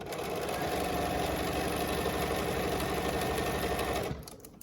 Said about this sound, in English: Back stitch at the beginning, and you want to sew all the way down